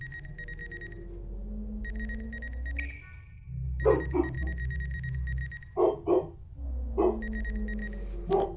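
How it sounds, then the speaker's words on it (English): Dogs bark in several sharp bursts close by at home, mixed with a repeating electronic ringing tone and game sounds. "the dogs are barking, they hear something, it's probably just a squirrel"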